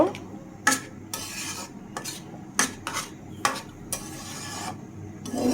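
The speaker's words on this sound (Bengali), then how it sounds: "এই যে সব ধরনের মশলা দিয়ে শোল মাছ দিয়ে দিলাম এগুলো বেশ কিছুক্ষণ মশলার মধ্যে কষিয়ে নেব" Snakehead fish is sautéed in spices with cauliflower, a metal spatula scraping and knocking against the pan in a series of sharp strokes roughly every half second to second, over a faint sizzle.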